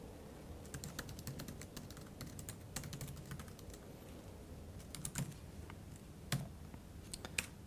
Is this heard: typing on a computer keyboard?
yes